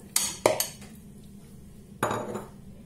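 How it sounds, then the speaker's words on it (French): Metal utensils clatter against a salad bowl as meat for brochette tajine is moved into it: a few sharp clinks and scrapes in quick succession, a pause, then another louder rattle near the end. "Je vais prendre un saladier où je vais mettre toute ma viande"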